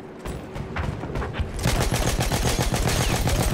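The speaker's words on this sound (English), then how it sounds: "Someone's firing at me." Battlefield 1 battle gunfire builds from scattered shots into sustained, loud rapid-fire volleys with heavy thumps, dense and continuous in the second half.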